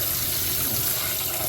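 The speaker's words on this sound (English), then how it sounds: "it's pretty easy to remove that caked on dirt with the hot water" Hot running water pours steadily over a Shark vacuum cleaner part to rinse off caked-on dirt, a constant close splashing gush with no talking.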